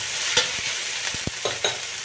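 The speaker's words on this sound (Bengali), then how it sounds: "ভাজা পেঁয়াজটার সাথে এগুলো একটু ভাজা ভাজা করে নেবো" Onion and ginger paste fries in oil at a low, steady sizzle while a spatula taps and scrapes the pan several times, close but fairly quiet, no talking.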